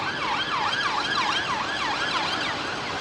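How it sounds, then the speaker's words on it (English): An emergency vehicle siren at London Heathrow Airport wails in a rapid rising-and-falling cycle, repeating steadily at moderate distance without a pause. "And the sirens, please."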